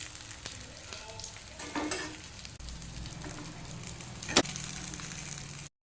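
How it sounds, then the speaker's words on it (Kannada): Fish frying in a pan for a home lunch gives a continuous low sizzle with a few scrapes and one sharp clatter near the end, and a faint engine-like hum runs underneath. "ಇವಾಗ ಇನ್ನೊಂದು ಸೈಡ್ ಕೂಡ ಚೆನ್ನಾಗಿ ಫ್ರೈ ಆಗಲಿ."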